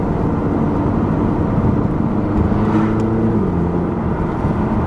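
A car rolls slowly past a gendarmerie, its engine a steady low hum with even road noise, close and continuous with no talk.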